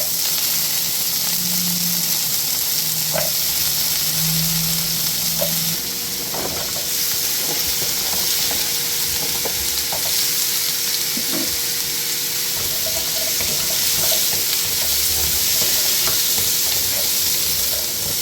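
Squash frying in a pan with crab and coconut milk, a steady bright sizzle and hiss with occasional stirring clinks and scrapes, close and continuous, no voices.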